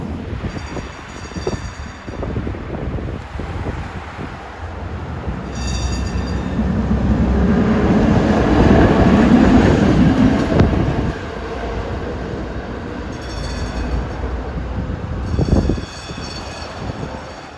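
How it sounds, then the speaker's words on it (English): A historic PCC streetcar on San Francisco's Muni F Line slows and stops near Pier 9, its rumble swelling to a loud, close peak midway before easing off, with faint wheel squeal and no talking. "As this northbound trolley stops."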